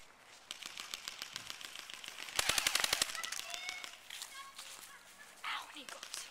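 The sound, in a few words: airsoft guns firing during team deathmatch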